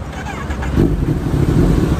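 A Kawasaki Z900 motorcycle engine turns over and settles into a low, rough rumbling idle, close and fairly loud, with a brief burst of revving.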